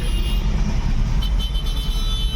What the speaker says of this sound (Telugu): కిలోమీటర్ నుంచి ఇట్లనే ఉన్నది ట్రాఫిక్